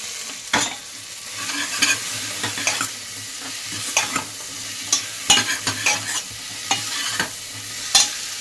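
Bottle gourd fries in a pan with a low steady sizzle, broken by repeated sharp scrapes and clacks of a spoon stirring at irregular intervals, close by with no talking.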